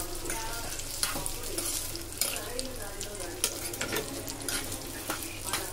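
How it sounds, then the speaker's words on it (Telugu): Fresh coconut sizzles in hot oil with green chilies and cumin, a close, continuous crackling fry punctuated by sharper spatters and the scrape of stirring. "ఇప్పుడు పచ్చి కొబ్బరి వేయిస్తున్నాను"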